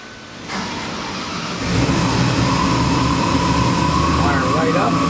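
LS7 427 cubic-inch, 625 hp crate engine cranking and catching, then running loud and steady with a deep rumble and rising revs, close by, with voices faintly underneath.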